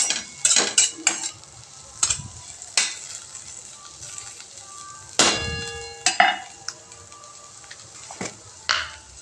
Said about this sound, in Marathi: त्यानंतर शेंगदाण्याचं कूट टाकायचं आहे आणि ते पण छान तेलामध्ये परतून घ्यायचं